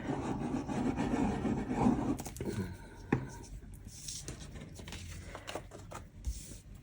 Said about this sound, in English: So we're adhering the paper to one of those very vanilla pieces.